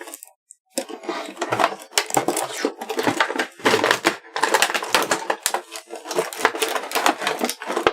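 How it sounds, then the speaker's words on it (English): Hulk action figure packaging being cut open, a close series of crunching, snipping plastic and cardboard sounds in uneven bursts after a brief silence, with no voices. "I'm going to go ahead and cut it open"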